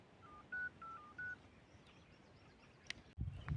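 Telephone number dialed on a keypad, a short series of about five DTMF tones in quick succession, fairly clear over a quiet background, followed by a brief click and rustle.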